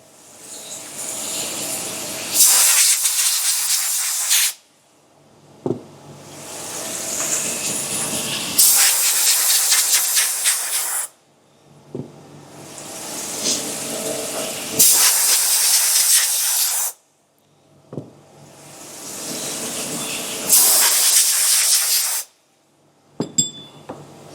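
Compressed air blasts off machined parts from an Okuma CNC in bursts of a few seconds each, four loud hissing blows separated by short pauses with small clatters between.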